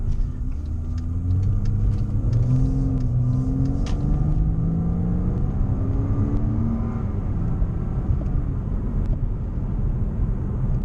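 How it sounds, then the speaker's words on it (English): A Porsche engine rumbles low and steady, its pitch rising and falling smoothly as it revs and eases off, heard close and continuous with no talk over it. "Gotta say, that sound of that engine is beautiful, and it's unique too."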